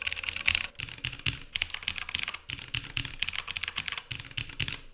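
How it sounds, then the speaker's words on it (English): Fingers type on a mechanical keyboard fitted with Holy Panda switches, giving a rapid, continuous run of crisp clacky keystrokes close by, with short pauses between bursts and no talking. "with the Holy Pandas, there is kind of a click to it."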